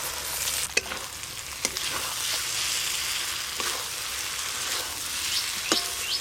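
Fried eggs go into a masala with oil on a clay stove, giving a loud, steady sizzle punctuated by a few sharp spatula clicks and scrapes.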